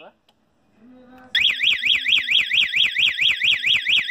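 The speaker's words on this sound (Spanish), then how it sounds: "ahora el alarma" A Falcon Tracker car alarm siren starts suddenly after a couple of short chirps, wailing in a fast, rising-and-falling siren pattern that repeats loudly and steadily.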